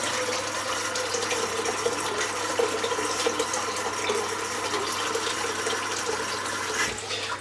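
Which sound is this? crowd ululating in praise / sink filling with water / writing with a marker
sink filling with water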